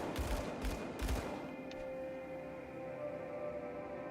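Video game gunfire cracks out in a few quick, sharp bursts near the start, then gives way to a lingering electronic hum and tonal drone.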